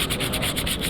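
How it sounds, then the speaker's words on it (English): Students sand a block of wood by hand in a school workshop, rapid rhythmic back-and-forth strokes, close and loud, with no voices. "to sanding"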